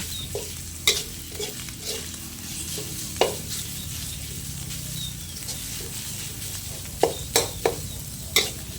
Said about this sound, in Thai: ผัดหมูให้สุกนะคะ